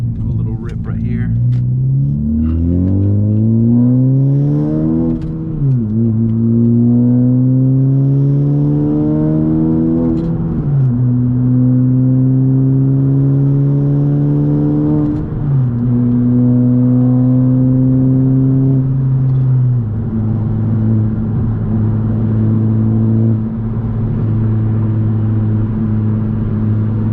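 A straight-piped 2021 Honda Civic FK7 hatchback with a Skunk2 exhaust pulls hard through the gears, each rising engine drone cut by a sudden drop at the shift. The loud, close rasp carries through several upshifts before it settles into a steadier cruise.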